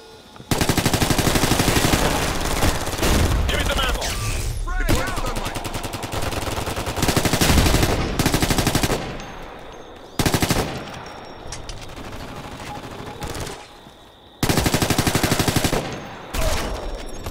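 Sentry gun in the multiplayer shooter Ghost Recon Future Soldier rattles off loud, sustained automatic bursts, long stretches of rapid fire broken by brief pauses, with other gunfire mixed in and no talking.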